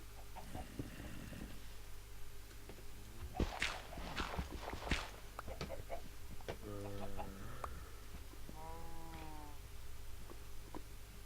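Minecraft chickens cluck and squawk in short bursts amid soft footsteps and light tapping, at moderate volume with no talking.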